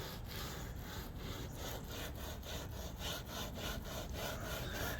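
Deck stain softened by Behr deck stripper being scrubbed with a small brush, a steady run of rough, rhythmic back-and-forth strokes, close and fairly loud, with no talking.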